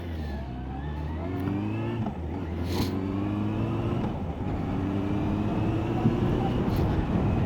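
A motorcycle on a riding-test course pulls away again, its engine note climbing through rising revs and gear changes, close and loud, with someone talking over it.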